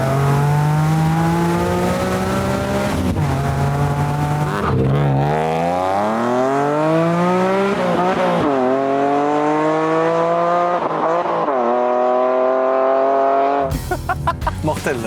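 A BMW M3 with an automatic gearbox, about twenty years old, revs loudly and steadily while driving, its engine note climbing in pitch through several long rising pulls with brief dips between them.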